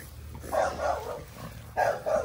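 Dog barking nearby indoors, two pairs of sharp woofs separated by a short pause, loud and close over faint background hum.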